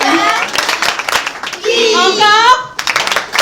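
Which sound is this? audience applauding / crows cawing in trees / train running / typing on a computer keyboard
audience applauding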